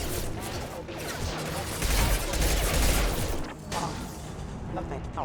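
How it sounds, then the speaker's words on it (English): Combat mechs open fire in Mass Effect 2, a dense barrage of rapid gunshots and mechanical clatter running continuously, loudest in the middle, with game dialogue mixed in. "These mechs shoot without question"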